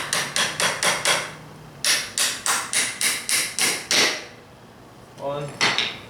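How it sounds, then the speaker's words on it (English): Sharp hammer blows striking nails into wood, two quick bursts of about five evenly spaced hits each, then a pause and a couple more taps. "you just hammer it in also on the bottom"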